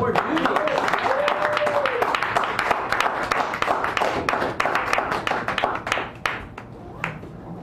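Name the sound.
audience applause at open mic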